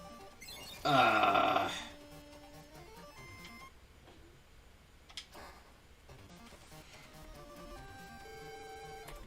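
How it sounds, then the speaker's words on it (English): A telephone rings with an incoming call during a RockMan EXE WS game session, one loud burst of ringing at the start followed by quieter game sounds and tones. "getting a phone call, so he's going to step away for a minute"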